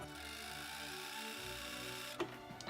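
Sewing machine stitching fabric for 18th-century-style fingerless gloves, a steady close mechanical whir that runs throughout, shifts pitch partway through and ends with a brief knock.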